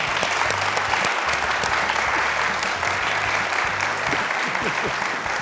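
A seated audience at a Turkish televised ideas program gives steady, sustained applause as a holding company board member walks on. The clapping runs loud and even throughout, with low music humming beneath.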